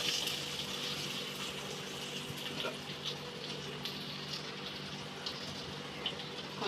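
Dissolved tamarind water poured into a cooking pot in a kitchen, a steady watery splashing rush holding close and fairly even throughout, with no talking.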